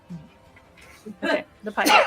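A single sneeze bursts out near the end of a tabletop role-playing game session, loud and close, following a brief spoken remark.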